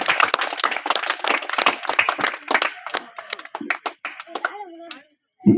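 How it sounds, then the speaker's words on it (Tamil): Crowd claps hands at a birthday celebration gathering, a burst of overlapping claps that thins into scattered ones, with some voices and a child's speech mixed in before a brief pause. "எல்லாம் கைத்தட்டுங்க."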